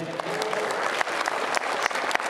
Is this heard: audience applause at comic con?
yes